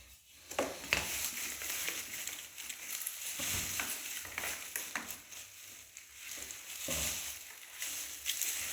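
Worm bin bedding being mixed by hand in a bucket, giving soft rustling, crumbly shuffles and occasional scrapes at a faint, close level with no talk.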